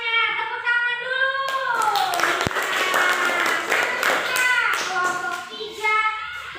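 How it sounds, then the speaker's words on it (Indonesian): Classroom applause for a student group, with bursts of clapping and tapping that rise and fade over children's voices and a teacher's speech, fairly close and loud. "Tepuk tangan dulu."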